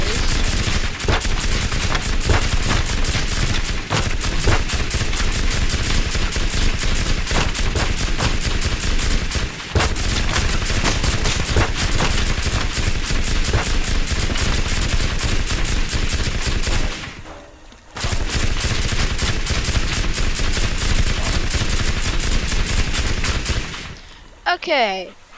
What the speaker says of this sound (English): I just probably want to shoot these boxes.